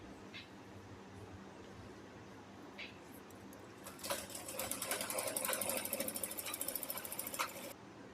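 A sewing machine stitches the round hem of a petticoat in one steady burst of rapid, even clatter lasting a few seconds, after quiet room noise and a couple of faint clicks.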